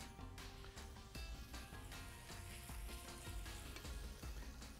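Cheese, potato and date-filled samosas frying in hot oil, a steady dense sizzle with faint crackles running continuously at close range.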